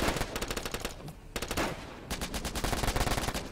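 Rapid automatic gunfire in the online shooter Warfare Online, dense overlapping bursts of shots with brief gaps, loud and close throughout.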